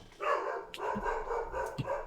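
A dog barks in the background, with two faint, distant barks spaced about a second apart over a steady low hum of room noise.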